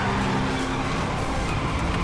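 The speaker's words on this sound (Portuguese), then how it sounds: "Ainda dá pra você acelerar mais. Já tô no máximo permitido, Patrícia." A car drives along with a loud, steady engine and road roar that holds constant throughout, with no voices.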